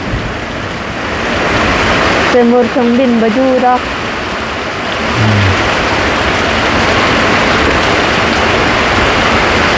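Heavy early-morning rain pours down steadily in a dense hiss, while someone speaks briefly partway through over the downpour.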